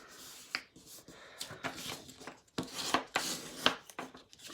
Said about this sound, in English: And then you want to burnish those score lines.